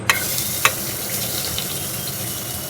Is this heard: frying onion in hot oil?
yes